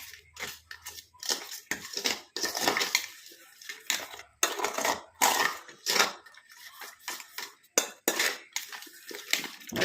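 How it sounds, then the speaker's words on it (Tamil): Repeated scraping and clinking of a spoon in a bowl as raw mango paste is mixed with a powder, irregular close-up strokes with no talk. "இப்போ இது கூட இந்த பொடியை வந்து ஆட் பண்ணிக்கலாம். ஆட் பண்ணிட்டு நல்லா நம்ம கலந்து விட்டுடலாம்."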